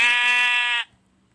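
A single sustained sheep bleat from Minecraft, loud and close, with a bright buzzy tone lasting most of a second before cutting off into near silence.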